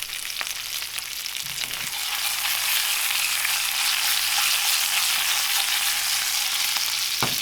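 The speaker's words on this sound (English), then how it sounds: "Alright, so it's sizzling pretty good." Steady, loud sizzling of food frying in olive oil in a pan, a continuous crackling hiss with a few faint clinks, no talking.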